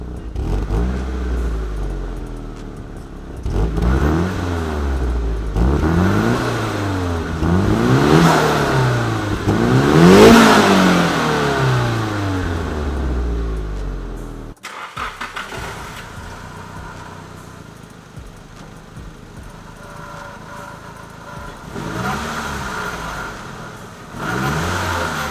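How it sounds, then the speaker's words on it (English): A Nissan S13 Silvia engine revs up and down in repeated loud sweeping bursts, cuts out abruptly midway, then returns with a rougher idle and a few lighter blips. "So we're gonna start it up, let you guys hear what it sounds like from the back and from the front"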